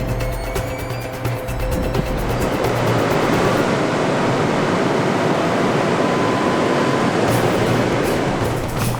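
Typhoon Bolaven waves surging over a coastal sea wall onto a shore road in Busan, a loud continuous roar of crashing surf and rushing water filling the whole stretch.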